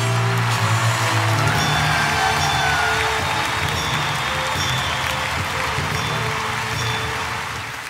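An audience at a theology talk on purgatory gives sustained applause, a broad wash of clapping that holds steady and fades slightly at the end, with a low hum beneath.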